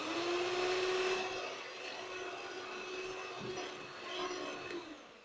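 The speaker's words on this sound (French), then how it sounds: "Moi, je vais faire ça au batteur à main" An electric hand mixer beats eggs and sugar at low speed, a continuous steady motor whine that holds at one pitch and drops slightly as the beaters work through the mixture.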